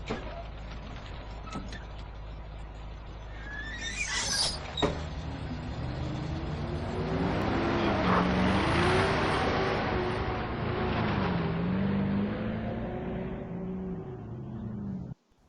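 A bus in the video game Borderlands pulls away, its engine hum swelling and shifting pitch as it drives off, with a few sharp mechanical clanks early on and the rumble cutting off abruptly at the end.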